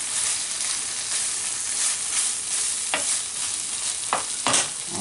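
Beef bolognese sauce simmering and bubbling in a pan, a steady sizzle with a few brief scraping stirring strokes near the end, close and alone.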